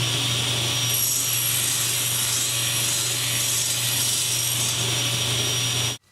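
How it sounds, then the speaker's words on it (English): Wooden spacers cut at 45 degrees with a fine-tooth blade in a jig, a loud continuous machine whine with a low hum that runs for about six seconds, then stops abruptly. "They'll be trimmed with 45-degree cuts using the same jig we used before"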